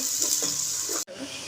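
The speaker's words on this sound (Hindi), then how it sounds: "प्याज को हमने करना है हल्का फ्राई।" Two chopped onions sizzling in hot oil in a pan, village-style home cooking, a close, steady hiss with a few stirring scrapes and a brief cut partway through.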